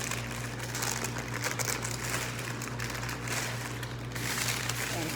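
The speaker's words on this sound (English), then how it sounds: "we're just going to peel the parchment off" Parchment paper crinkles and rustles as it is peeled off laminated dough, a steady close crackling that stays fairly quiet and continuous with no voice.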